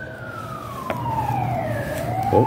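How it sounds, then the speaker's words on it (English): A wailing emergency siren sweeps down and back up in pitch, loud and fairly close over steady traffic rumble, with a brief voice at the start. "siren's going off"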